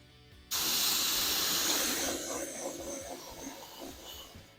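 Aerosol spray paint hisses in a steady, close, loud burst onto the interior of an R/C stock car body, starting abruptly after a quiet moment and easing slightly toward the end.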